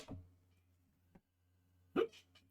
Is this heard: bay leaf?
no